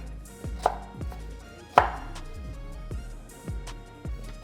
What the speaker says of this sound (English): cut our pear. Whittle that core out.